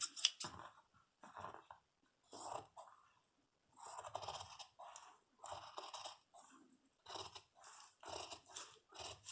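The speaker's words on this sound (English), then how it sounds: "When you're cutting scuba, you need to have very sharp scissors." Sharp scissors snip through scuba fabric while a skirt pocket is cut out, giving a string of crisp, close cutting bursts separated by short pauses.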